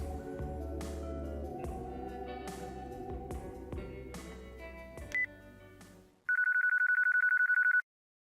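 A cell phone call rings in Yakuza 4 Remastered as a loud, steady electronic trill lasting about a second and a half, following a stretch of game music and sound effects.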